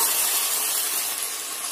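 Drained potatoes dropped into onions frying in a pan, a loud, continuous sizzle that holds steady throughout, heard alone with no talk.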